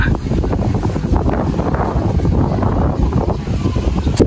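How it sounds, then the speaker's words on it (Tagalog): Strong wind near the sea buffets the microphone in a steady, heavy low roar that persists throughout without letup. "Oh, lakas ng hangin."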